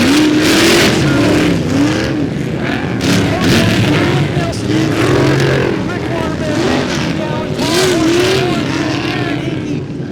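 Off-road race cars in the 4400 main race roar past together, engines revving and droning loudly and continuously, with a commentator talking over them throughout.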